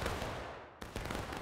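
Musket volley in War of Rights, a Civil War battle game: dense, loud crackling gunfire fills the clip, broken by a brief lull and then a fresh burst of overlapping shots.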